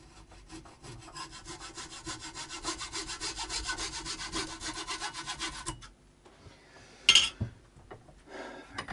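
A hand saw cutting through a piece of wood during bike part setup, a close rasping back-and-forth rhythm for about six seconds, then a short clatter and a brief rub afterward.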